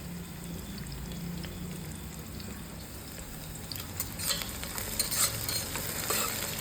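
Green chillies and onions sautéing in a pan for street-style mushroom biryani give a steady close sizzle with soft stirring scrapes, growing a little busier toward the end, with no talking.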